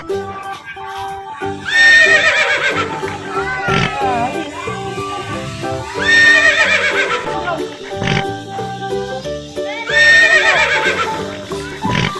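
A pony neighs repeatedly while being fed, loud, close whinnies rising about every four seconds, with voices in the background.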